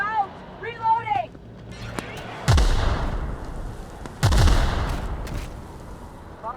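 Gunfire in the video game The Outer Worlds: two heavy, booming shots a couple of seconds apart, each with a long rumbling tail, set among game dialogue and voices.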